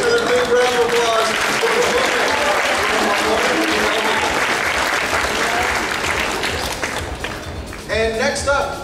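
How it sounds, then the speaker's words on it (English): Loud, sustained audience applause at an anime convention costume contest, Spring Kraken Con 2015, dense clapping that fills most of the clip before thinning, with a voice speaking over the final second. "A big round of applause."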